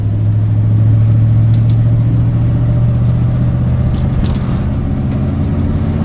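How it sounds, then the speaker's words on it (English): A 1986 Chevy pickup truck engine hums steadily while driving on a drizzly day, a loud, continuous low rumble with even tone throughout and no talking. "Well, I figured while I had the truck out, we'll just take it for an old spin."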